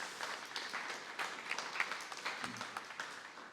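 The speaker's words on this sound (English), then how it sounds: "let's give everybody a round of applause here" Applause from an audience at a community gathering on defending federal housing, a steady wash of many hands clapping at moderate distance, sustained throughout with small bursts and no talk over it.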